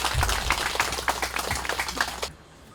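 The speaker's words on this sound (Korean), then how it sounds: "여러분 박수 한번 쳐주시기 바랍니다" A rally crowd at a rice-paddy site visit in Gimje, North Jeolla, breaks into a burst of applause, with dense, rapid clapping that stays loud for about two seconds and then cuts off abruptly.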